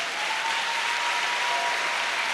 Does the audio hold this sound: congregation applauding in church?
yes